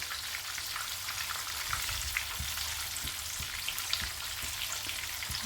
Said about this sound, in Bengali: আলুগুলোকে কিন্তু একটু লাল লাল করে ভেজে নিতে হবে।